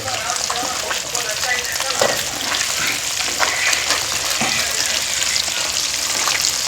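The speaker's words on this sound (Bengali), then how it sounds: "প্রথমবার মাছ ভাজলাম গাইস, সত্যি বলছে প্রথমবার মাছ ভাজলাম" Fish frying in a pan gives a steady, busy sizzle with crackling spatter, holding close and fairly loud throughout with no pauses.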